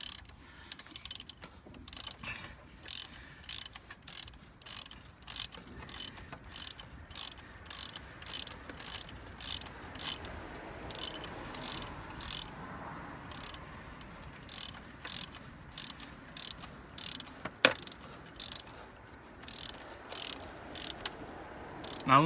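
A ratchet wrench clicks in quick repeated bursts while a 12 mm bolt is loosened from a metal pipe on a 2005 Nissan Altima 2.5 litre engine, close and fairly quiet, with brief pauses between strokes.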